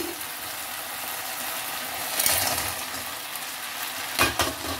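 Fried idli pieces tossed in chilli sauce in a hot pan give a steady sizzle, with two brief louder scraping clatters as the mixture is stirred; no voices.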